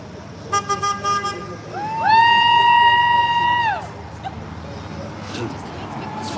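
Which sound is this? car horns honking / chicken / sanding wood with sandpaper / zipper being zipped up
car horns honking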